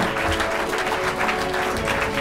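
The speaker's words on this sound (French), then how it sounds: "Applaudissez-vous, applaudissez-vous vous-même!" Conference audience at a personal development talk clapping, dense, steady applause from a large crowd filling the whole stretch without a break.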